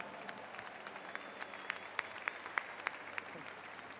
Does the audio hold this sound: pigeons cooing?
no